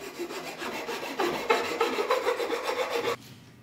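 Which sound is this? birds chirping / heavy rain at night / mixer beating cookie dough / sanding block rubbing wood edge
sanding block rubbing wood edge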